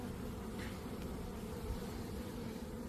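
Honeybees buzz in a dense, continuous, fairly close drone while a hive is opened during an early spring inspection, with no talking.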